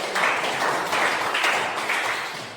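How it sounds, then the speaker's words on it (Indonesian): A church class claps its hands together in a few quick rhythmic bursts, close and fairly loud, with no talking over it. "Coba tepuk tangan."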